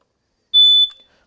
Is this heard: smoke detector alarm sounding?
yes